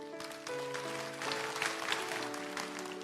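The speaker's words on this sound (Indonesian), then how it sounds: "Kasih tepuk tangan untuk Tuhan Yesus." Church congregation clapping for Jesus during a Sunday service sermon, a steady wash of applause lasting about three seconds with a sustained tone beneath it.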